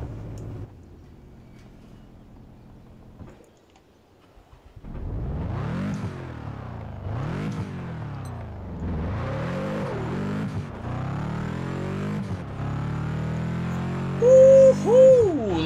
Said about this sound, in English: we are going to be driving the Subaru WRX STI